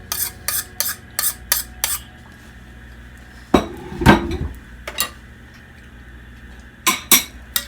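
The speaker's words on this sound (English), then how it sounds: "So now I'm gonna mix." A utensil mixing guacamole in a bowl, with a quick run of sharp clinks and scrapes, then a louder scraping stir and a few more scattered clinks, with no talking.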